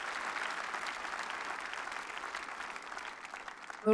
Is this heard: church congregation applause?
yes